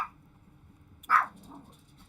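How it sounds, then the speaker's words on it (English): A pet dog named Phoebe gives a single sharp, nearby bark indoors, preceded by a brief faint yelp, with quiet room tone around it. "I don't know why my dog decides to bark whenever I get on stream."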